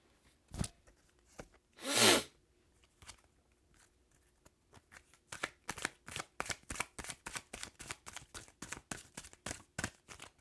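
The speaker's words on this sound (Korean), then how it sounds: "우주의 메시지 또 카드 한 장 뽑아보도록 하겠습니다" Fortune-telling cards shuffled by hand before one is drawn, first a few isolated flicks and a louder riffle, then a long quick run of crisp, evenly spaced card snaps, close and quiet with no talking.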